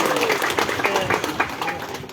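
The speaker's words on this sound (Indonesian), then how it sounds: "Tepuk tangan dulu dong." A crowd claps at an outdoor village gathering beside rice fields. The applause is a dense, steady patter of many hands, mixed with voices talking throughout.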